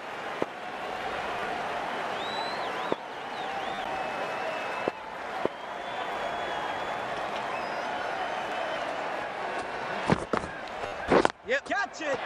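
A cricket crowd at an Australia versus England match cheers and applauds in a steady, dense roar for most of the clip, with a few sharp claps and bangs near the end.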